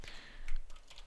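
Fingers tap a computer keyboard while editing code-style settings in IntelliJ IDEA, producing a short, faint run of light plastic clicks at a quiet, close distance.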